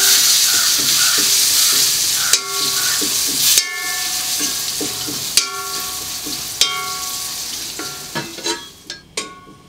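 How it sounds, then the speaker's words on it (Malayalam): Crushed chili tossed into softened onions frying in oil, a loud continuous sizzle broken by repeated sharp spoon-on-pan scrapes and knocks near the end, no voices. "അപ്പൊ നമുക്ക് ചതച്ച മുളക് ഇടാം."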